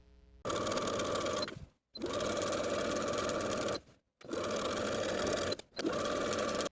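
A sewing machine edge stitches a folded skirt hem in three long, steady whirring bursts separated by brief pauses, close and clear with no voices.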